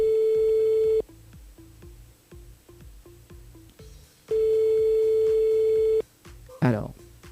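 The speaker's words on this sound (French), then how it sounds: "on appelle un petit coup Valérie de Bijoux de Perla" A telephone ringing on a radio show call, two long steady electronic tones separated by a pause, under background music.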